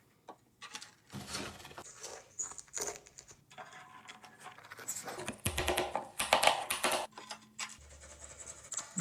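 Tile being set and tapped into place, giving a run of close, irregular clicks, taps and light scraping knocks of varying loudness across the whole stretch, with no voices.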